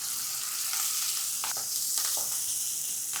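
Mustard seeds, green chilli, turmeric, chilli powder and chivli leaves hit hot oil, giving a steady bright crackling sizzle with a few sharper pops and stirring scrapes, no talk.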